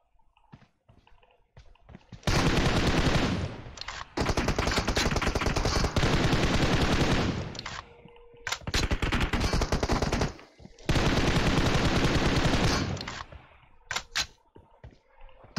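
M416 assault rifle fire in a shooter video game, loud close automatic bursts, with long sustained volleys around two seconds each separated by short pauses and scattered single clicks.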